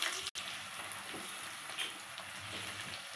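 Sliced onions frying in a pan with cloves, cardamom, cinnamon and mace for egg fried rice, a faint steady sizzle with soft crackles and a brief dropout near the start.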